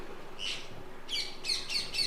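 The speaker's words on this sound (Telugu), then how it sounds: "చూసారా చిలకలు గోల్ వస్తున్నాయి ఈ మధ్య బాగా వస్తున్నాయండి తినడానికి" A few shrill, harsh parrot squawks, one alone and then a quick run of three or four, fairly close against a quiet background.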